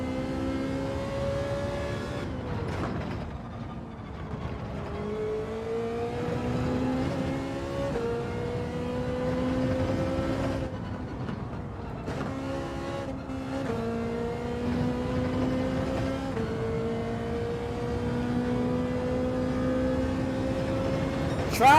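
A race car engine revs hard in Gran Turismo 7, climbing through gears in a loud, rising whine that drops at each shift, repeated across several accelerations with faint tire squeal and no talk.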